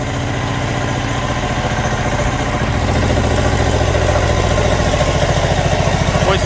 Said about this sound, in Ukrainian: Ось так працює український мотоблок Motor Січ.